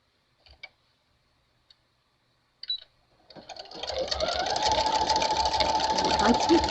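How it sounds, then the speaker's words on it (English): A sewing machine starts stitching a piece of lace after a few soft clicks, building quickly into a steady close mechanical whir that runs continuously to the end. "if I just start now stitching"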